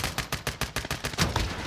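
Rapid automatic gunfire in a Search and Destroy video game match: a fast, evenly spaced burst of about a dozen loud shots, close and continuous.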